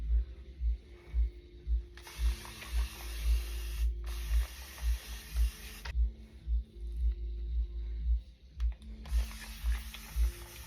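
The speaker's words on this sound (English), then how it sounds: "I'm kind of just spraying water until it feels a little damp." A spray bottle mists water onto hair extensions in steady, rhythmic spritzes, each trigger pull giving a soft click and hiss. Close and continuous, with no talking.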